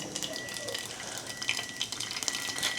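Mustard seeds spluttering in hot oil for tempering a dal, a faint crackling sizzle with scattered small pops, quiet and close, with brief bits of voice around it.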